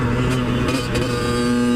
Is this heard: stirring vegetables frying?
no